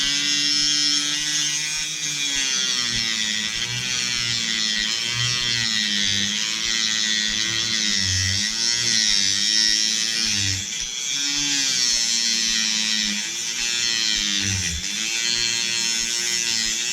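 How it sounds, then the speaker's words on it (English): Dremel rotary tool with a small cutting wheel slicing through the butt of a spinning fishing rod with foam grip, a loud close high-pitched buzzing whine that wavers in pitch as the wheel bites, continuous throughout. "We're gonna go ahead and use a Dremel, the little cutting wheel."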